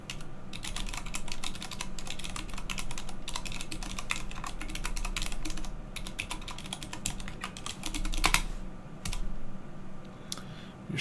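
Rapid, uneven typing on a computer keyboard, close and clear, with bursts of key clicks, a few louder keystrokes near the end and short pauses, over a low steady hum.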